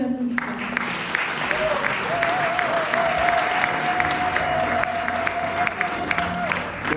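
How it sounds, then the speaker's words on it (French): Audience at an award ceremony giving sustained, dense applause that fills the room, with a voice speaking over the clapping. "Sous vos applaudissements."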